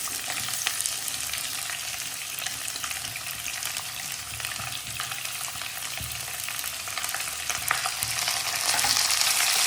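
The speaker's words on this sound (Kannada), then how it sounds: "ಫ್ರೈ ಆಗಿದೆ, ಆನಿಯನ್ ಹಾಕ್ತಾ ಇದ್ದೀನಿ." Onions frying with chilli and curry leaves in a hot pan, a steady loud sizzle with occasional stirring scrapes, growing slightly louder toward the end.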